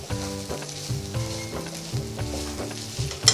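Poppy seeds and sesame seeds roasting and being stirred in a pan while cooking a masala, giving a steady soft sizzle with repeated scraping strokes of the spoon, close and moderately loud, with no talk.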